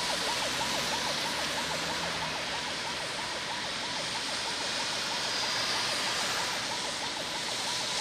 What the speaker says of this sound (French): Difficile pour cette ambulance de se frayer un chemin dans ce bouchon interminable